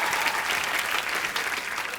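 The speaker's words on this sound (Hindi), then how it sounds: "यामी के लिए भी जोरदार तालियां" Studio audience on a comedy talk show clapping loudly together, a dense continuous burst of applause filling the room.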